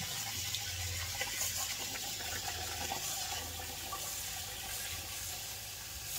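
Two cups of water run steadily into a rice pot for several seconds, a continuous close splashing stream with no talking.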